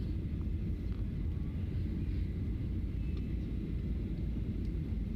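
A passenger plane touches down and rolls along the runway, heard as a steady, heavy low rumble with a constant roar that does not let up, close and loud.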